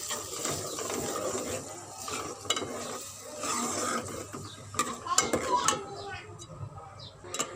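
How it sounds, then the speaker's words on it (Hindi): Blended masala for tomato chicken karahi fries and sizzles in a pan while being stirred, with scraping and clinks of a utensil against the metal throughout. "और इस मसाले को हम अच्छी तरह से फ्राई करेंगे।"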